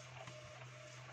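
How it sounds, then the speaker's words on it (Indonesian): An Epson L310 inkjet printer running dye ink on blank paper, giving a steady, low mechanical hum with a faint whirr, close and continuous, with no voices. "Nah, ini lagi print, proses print."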